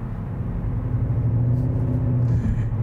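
Škoda Octavia RS in normal drive mode, its engine a steady deep rumble heard from the cabin, smooth and continuous with a slight rise in tone toward the end, no talk.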